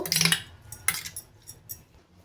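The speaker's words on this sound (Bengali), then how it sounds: "আমি একটা চামচ দিয়ে নুন আর হলুদটা চিংড়ি মাছের মধ্যে মাখিয়ে নেব।" A spoon mixes salt and turmeric into raw prawns in a bowl, clinking sharply against the dish in a few quick bursts, the first loudest, then lighter taps trailing off; close and alone.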